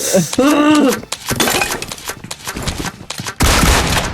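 Gunfire in the mobile battle royale game PUBG Mobile, sharp loud bursts of shots breaking through a cluttered mix with voices talking over much of it.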